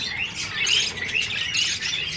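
A colony of finches in an aviary chirps continuously, with several high, thin tweets overlapping at close range and no voices.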